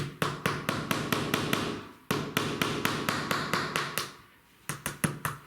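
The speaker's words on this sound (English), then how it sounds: "I'm going to get my screw, I'm going to put it in the plug and give it a little tap." Repeated sharp hammer taps drive a wall plug and screw into a drilled hole through skirting board into masonry, coming in quick regular runs with brief pauses between groups.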